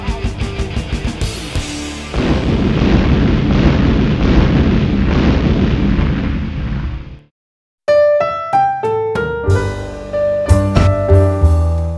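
A series of bomb explosions in a TV comedy soundtrack, a rapid run of sharp bursts building into a sustained loud roaring blast, a brief silence, then more percussive booms and bangs.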